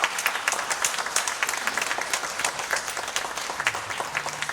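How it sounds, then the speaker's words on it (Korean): Congregation applause during a Sunday church service, a dense, steady patter of many hands clapping at moderate distance, lasting throughout with faint voices underneath. "박수로 또 맞이했으면 좋겠습니다."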